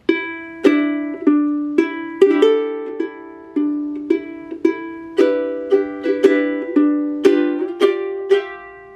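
A plucked ukulele plays a short strummed chord passage, bright and close, with evenly spaced attacks that ring briefly and decay.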